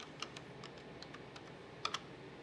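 A new password is typed on a computer keyboard, with a quick run of light, close key clicks and a couple of sharper taps near the end, alone in a quiet room.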